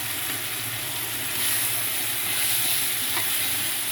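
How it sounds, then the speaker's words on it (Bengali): Potatoes hiss and sizzle steadily in hot oil as they are stirred, a close, continuous frying crackle with no talk. "আলুটা এবার দিয়ে দিচ্ছি, আস্তে আস্তে ছাড়বে।"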